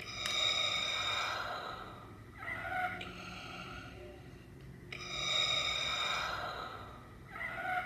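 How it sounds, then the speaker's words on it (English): Slow mechanical Darth Vader breathing from a Black Series helmet's built-in sound effect, with long hissing inhales and exhales repeating in a steady cycle, faint and close with no talking. "That is my favorite breathing sound effect when Vader is down"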